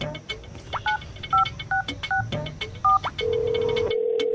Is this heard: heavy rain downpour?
no